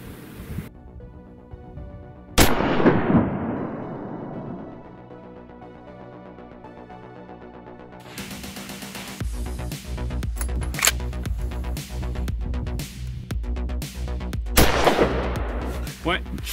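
Two sharp, loud rifle shots fired close by at a 500-metre range with Remington Core-Lokt Tipped ammunition. Each crack has a rolling echo, and the shots are spaced about twelve seconds apart over quiet outdoor background.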